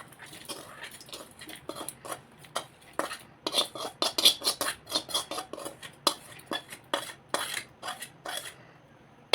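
Roasted spices including fennel are tipped from a pan into a cooking vessel for drumstick gravy, heard as a quick run of close, quiet metallic clinks and scrapes of spoon against metal.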